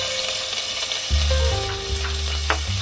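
Chopped spring onion sizzles in hot oil in a cooking pot, a steady close crackling hiss that runs the whole time, with a low hum and a few faint clinks underneath.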